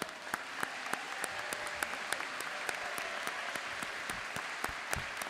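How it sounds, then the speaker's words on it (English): A commencement crowd applauds alumni at a graduation ceremony, a steady, dense wash of clapping from many hands with a few sharper claps standing out near by. "Round of applause for all of you"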